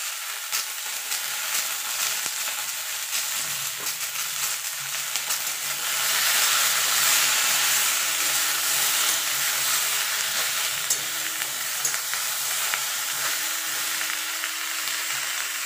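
Salted mixed vegetables for a spinach chorchori fry in a pan with a steady, dense sizzle and hiss. The sizzle swells louder midway, with occasional faint stirring clinks and no talking.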